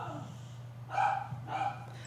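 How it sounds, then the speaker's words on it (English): Dogs barking in the distance: two short, muffled barks about half a second apart over a low steady hum, fairly faint and somewhat far away. "I apologize for barking dogs."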